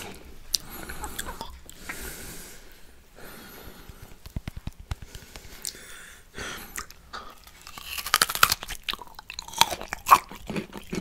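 Close, intimate eating of juicy mango and orange slices: soft wet chewing, squishes and occasional crunchy bites, quiet overall with sharper bites building toward the end.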